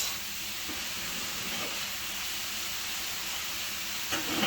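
Shredded pork and vegetables sizzle in a hot pan for a keto spicy stir fry, a soft steady hiss with faint scraping from stirring and no talk.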